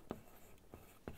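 Handwriting: a few faint pen strokes on paper, three soft scratchy marks spaced across a second in a quiet room.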